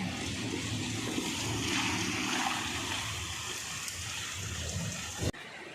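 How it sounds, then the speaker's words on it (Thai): Steady rain falls from early morning, a dense continuous hiss of water like rain on a surface, fairly even throughout with no voices, ending abruptly near the close. "วันนี้นะคะ ฝนตกแต่ เช้าเลย"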